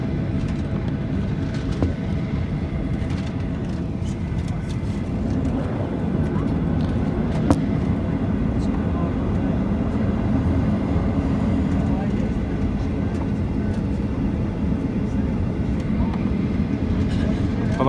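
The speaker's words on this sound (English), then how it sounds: "we're just taxiing onto the runway" A Ryanair Boeing 737-8AS(WL) taxiing onto runway 26 at Stockholm Skavsta, heard from inside the cabin as a steady, low engine drone and rumble throughout, moderately loud with no talk over it.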